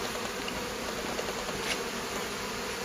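Honey bees buzz in a dense, continuous drone at a hive entrance, with workers fanning their wings close by. The steady hum holds level throughout, with no voices.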